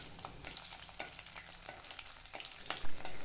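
Steady crackling sizzle of garlic frying in hot oil with curry leaves, with a few soft clicks and stirs scattered through, close and fairly quiet.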